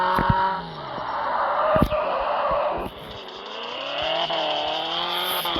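Engine drone and screeching tire skids from a car braking in a racing video game, continuous and close with tonal squeals that bend in pitch.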